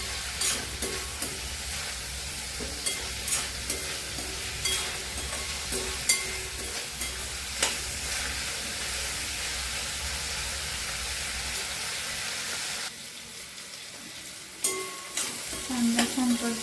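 Onion sautés in a pan for a colocasia root vegetable dish, a steady close sizzle with light spatula taps and stirs, briefly dropping quieter before stirring resumes.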